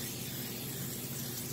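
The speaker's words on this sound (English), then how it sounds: "I just start spraying it evenly" A pumped oil sprayer mists oil evenly over tomatoes, a short, steady, soft hiss with no talking.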